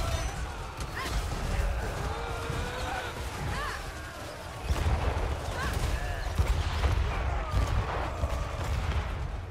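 Repeated booming blasts of cannon fire in Total War: Warhammer 3, dense and continuous, with voices talking over the barrage.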